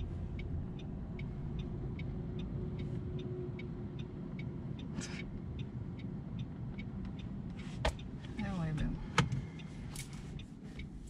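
Car engine idling with a low steady rumble and a regular ticking, then revving slightly and pulling away as the clutch is released, with a few clunks and knocks near the end.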